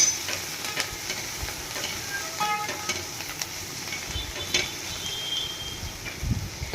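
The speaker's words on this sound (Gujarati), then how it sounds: "હવે આપણે એમાં ભાજી એડ કરી દઈશું બરાબર એકદમ મિક્સ કરી દેશું" Colocasia leaves being stirred into golden-brown garlic frying in a pan, with a steady close sizzle and scattered scraping and clinking of the spoon throughout.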